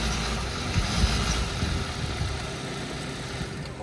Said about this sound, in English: Although this does sound like he's running rough.